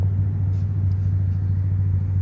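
A lawn mower engine runs at full throttle, a loud, steady droning hum with a constant low pitch and no change in speed, close by and alone without talk.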